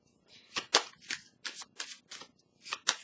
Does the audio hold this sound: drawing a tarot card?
yes